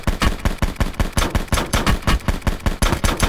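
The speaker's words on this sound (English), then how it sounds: "Hitting a few shots here, but missing for the most part." Rapid, loud automatic gunfire from a suppressed SWAT rifle in the video game Black Ops 4 Blackout, with evenly spaced rounds in sustained bursts throughout.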